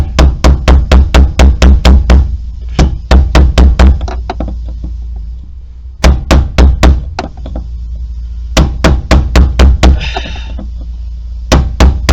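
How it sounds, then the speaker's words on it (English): Rapid bursts of loud hammer blows in quick clusters, several series of sharp metallic strikes separated by short pauses. "So gotta keep hammering."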